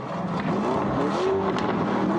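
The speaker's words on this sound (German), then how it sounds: "Ein sehr kerniger V8-Sound." A V8 car engine revs in a loud, rough, throaty roar that climbs and wavers in pitch, heard close and continuous with no talk.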